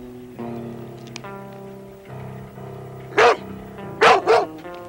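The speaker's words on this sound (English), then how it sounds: "It's a dog. It's barking, Mr. Brewster." Three sharp dog barks, one and then a quick pair, cut across steady ship engine or music drones aboard a vessel.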